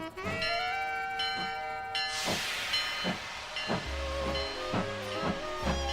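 A train at a station, with a sustained whistle-like harmonic tone, bursts of steam hiss and rhythmic chuffs and clanks, close and fairly loud.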